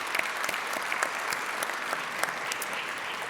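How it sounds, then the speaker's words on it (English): Audience applause at a Rotary club meeting, a steady wash of many hands clapping from start to finish with no talk over it. "Let's give Deborah Schultz a round of applause as well."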